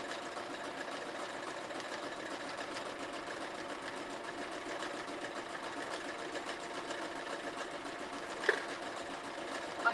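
An embroidery sewing machine stitching free-hand applique runs at a steady, fast, even rhythm, a continuous mechanical whir with one brief click near the end and no talking.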